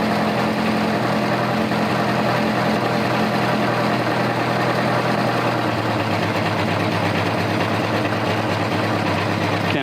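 A carbureted engine idles steadily at about 1100 RPM while its carburetors are being synced: a loud, continuous low rumble with an even throb and no speech.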